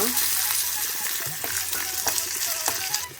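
Byadagi chillies, chana dal and urad dal fry in a pan for traditional mude idli, a close, busy sizzle with scattered spoon clicks and stirring scrapes, and a faint voice in the background.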